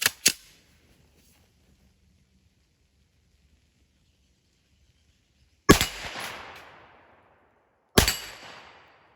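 Rifle shots ring out from a Bear Creek Arsenal right-side charging rifle fired at an outdoor target: three loud, sharp cracks, one at the start and two later about two seconds apart, each followed by a decaying echo.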